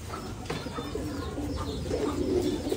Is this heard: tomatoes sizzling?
no